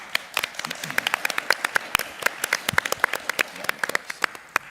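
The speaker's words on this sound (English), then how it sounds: "So let's give Mark a hand of applause." A small audience claps for a special guest from Cure Childhood Cancer at a late-night fan convention panel, giving sparse, distinct handclaps that ring out in an uneven patter for several seconds.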